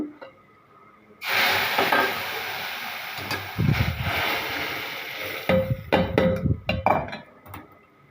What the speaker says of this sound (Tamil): இப்போ இதை எடுத்து நம்ம இந்த பருப்புக்குள்ளே கொட்டிடணும்